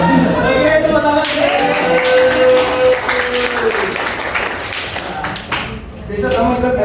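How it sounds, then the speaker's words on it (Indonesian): A classroom breaks into applause, a dense wash of many hands clapping that stays steady for several seconds, with voices talking over it. "Oke, tepuk tangan."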